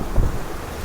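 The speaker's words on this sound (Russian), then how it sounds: "Вымпельный ветер достигает 30 узлов." Strong apparent wind of about 30 knots buffets a sailing yacht beating close-hauled toward Naxos, a brief rough blast of wind noise with a low thump, no voices.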